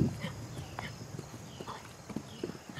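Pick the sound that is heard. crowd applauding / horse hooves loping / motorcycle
horse hooves loping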